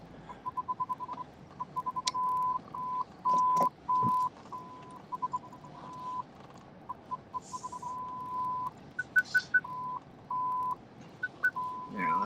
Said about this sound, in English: broken sensor in the back just makes the collision alarms just nonstop go off when I'm in reverse